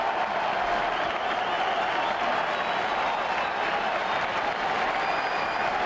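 A large crowd at a 2000 World Series baseball game at the Mets' ballpark rises and applauds in a steady, dense, somewhat subdued wash of clapping that continues throughout without a break.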